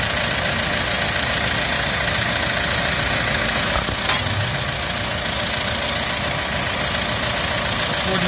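An Opel Zafira Tourer C engine idles with a steady, loud, unbroken drone and a brief click or knock partway through.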